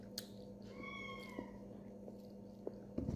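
A kitten meows indoors in a home, a couple of faint, drawn-out mews over a steady low hum, with soft clicks and chewing-like noises around them and no clear talk.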